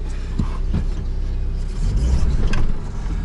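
The engine of a Ford Mondeo at a scrapyard runs close by during a clutch test, a low steady idle rising into a heavier, louder load near the end with a few faint knocks.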